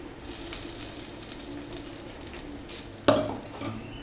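Cumin seeds fry in oil in a kadai, giving a steady close sizzle with light crackling and one sharp metallic clink of a spoon against the pan near the end.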